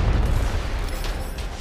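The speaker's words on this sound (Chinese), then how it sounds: "这个怪死掉会爆炸哎" An enemy bursting on death in Gunfire Reborn: one deep, booming blast that starts loud and fades over a second and a half.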